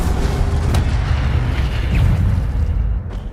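The Incendio fire spell in Hogwarts Legacy erupts as a loud, rumbling burst of flame with a whooshing boom that fills the clip and then tails off toward the end.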